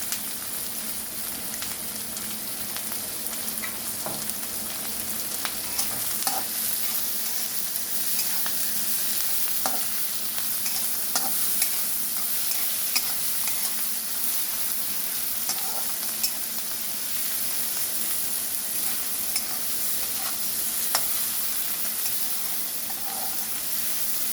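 Vegetables with a pinch of salt sizzle in a hot pan as momo filling is sautéed, with a continuous frying hiss and intermittent scraping clicks of stirring, close and steady, with no talking.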